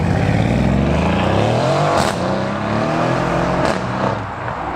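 A Mercedes-AMG A35 drives away, its engine revving loud and close with rising and falling pitch as it accelerates through gears, a steady roar that fades slightly toward the end.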